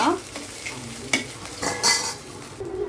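Three eggs with a little oil being beaten in a kadai, a spoon or whisk scraping and clinking against the metal pan in quick irregular strokes, close and fairly loud, no voices.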